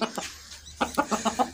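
A rooster clucking close by, a short series of five or six quick, clipped clucks after a couple of softer calls, fairly quiet with no talk.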